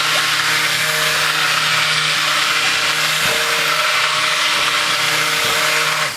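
A blender motor whirs steadily while mixing soap batter, a loud, continuous close hum with a brief dip partway through, no voices over it.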